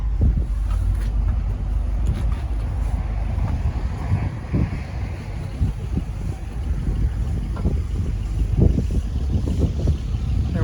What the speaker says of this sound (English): Having a windstorm come through here and messing with the sign.